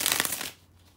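A quick burst of tarot card shuffling, crisp papery riffling up close for about half a second, then it fades to quiet room tone.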